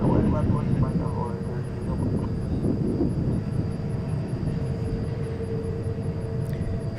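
Frontier Airlines Airbus A320neo taking off at DFW International Airport toward San Francisco, a steady broadband engine roar holding throughout under a presenter's ongoing talk, with a faint high whine above.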